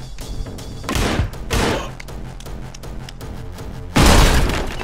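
Explosions and gunfire in the first-person action game Anger Foot: several loud booming blasts and bursts of shots, with a big final explosion near the end, close and punchy.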